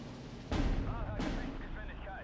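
Heavy bomb blasts hit a 1944 IS-2 tank in Steel Division 2, two loud booming detonations about half a second apart, each followed by a long rumbling tail of debris.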